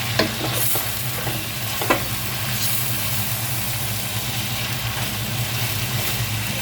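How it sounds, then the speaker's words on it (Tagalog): Spice powders get stirred into food in a hot pan, a loud close sizzle with a few scraping spoon strokes early on, then steady frying. "So, halu-haluin natin hanggang mahalo lahat yung mga powder-powder"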